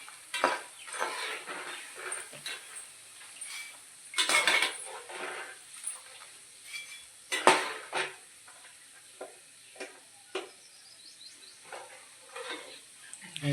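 Kara boondi frying in hot oil while a metal utensil stirs and scrapes the pan, giving a soft sizzle under irregular, fairly close clinks and taps.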